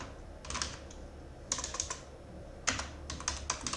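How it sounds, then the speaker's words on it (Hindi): Short bursts of computer keyboard typing tap out in quick clusters while C code is being entered, light close clicks separated by brief pauses. "मैं यहाँ पे टाइप करता हूँ"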